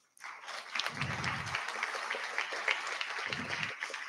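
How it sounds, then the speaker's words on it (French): Audience applause at a launch event in Wazemmes, Lille, clapping steadily at moderate volume for about four seconds with a brief voice or two underneath. "Donc on peut les applaudir."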